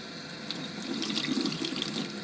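Warm tap water runs steadily into a sink while an acrylic, watercolor or oil paint brush is rinsed, a close, continuous splashing hiss that swells slightly after the first half second. Nobody talks.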